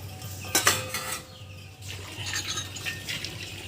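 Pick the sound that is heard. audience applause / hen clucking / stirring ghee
stirring ghee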